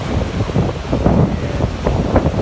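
Wind at sea aboard a boat heading through a narrow strait toward Yokohama, a steady rough gusting rush buffeting the microphone with low surging water beneath, loud and close, no talking.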